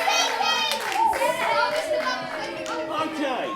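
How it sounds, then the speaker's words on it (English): Children and adults at a live school quiz clap and cheer together, with excited kids' voices shouting loudly over the hand claps throughout. "Massive round of applause,"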